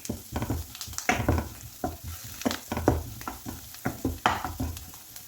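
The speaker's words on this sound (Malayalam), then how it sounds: "എല്ലാം കൂടി ഒന്ന് വഴറ്റി കൊടുക്കാം" Carrots sauté with turmeric and curry leaves in hot oil as a spoon stirs them, making a soft sizzle with a rhythmic series of scraping strokes close by, no voices.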